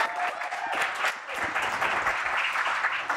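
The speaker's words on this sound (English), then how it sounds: "How about a round of applause for Julie?" Live audience at a talk applauds for Julie, a dense, steady wash of clapping held at full strength throughout, with no voices over it.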